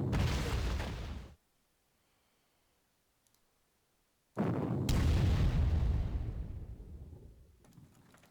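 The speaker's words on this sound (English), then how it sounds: "This artillery is just going to be devastating." Artillery fire in the strategy game Panzer Corps: a loud boom cuts off into silence, then after about three seconds a second heavy blast rumbles and slowly fades.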